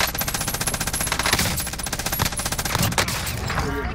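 Rapid automatic gunfire in Call of Duty: Modern Warfare, with dense overlapping bursts of shots, loud and close, firing steadily with brief surges and sharp impacts.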